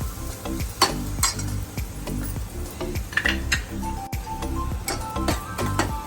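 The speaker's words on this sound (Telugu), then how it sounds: "వేసినాక టమాటా ప్యూరీ వేసుకోవాలి." Tomato puree goes into hot oil with ginger, garlic and turmeric for a paneer curry, sizzling steadily while a utensil scrapes and taps the pan in a repeated stirring rhythm, up close.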